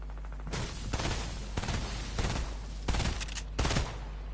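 Rapid bursts of gunfire in Fortnite, several loud volleys of automatic shots cracking in quick succession, close and dominant, with steady background game noise.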